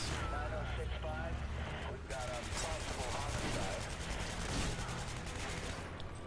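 Rifle fire from the video game Hatred sounds as a rapid stream of dense gunshots under continuous game noise, with a person talking over it.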